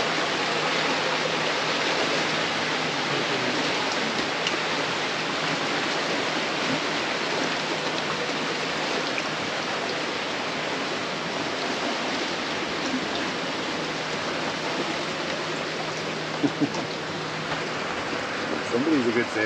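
Steady rain falls on a sailing boat moving through flat calm water, a dense continuous hiss of drops on the deck and water all around, close and unbroken throughout.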